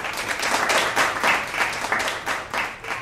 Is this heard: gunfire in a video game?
no